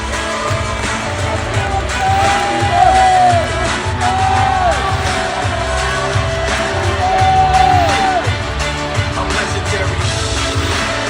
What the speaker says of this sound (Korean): 큰 응원과 박수 부탁드리겠습니다